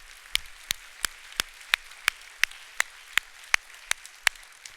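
A church congregation claps in a slow, even rhythm, roughly a dozen sharp, distinct claps spaced regularly, fairly close, with no talk over them.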